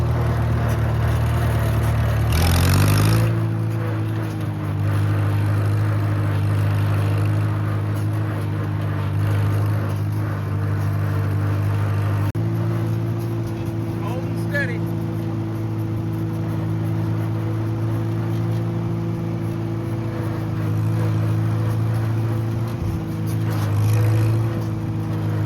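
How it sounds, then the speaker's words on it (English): A Farmall tractor with a slipping friction throttle drives along, its engine and noisy transmission holding a loud, steady, close low drone throughout with little change in pitch. "I probably don't even notice it when I'm driving it because the transmission makes so much noise"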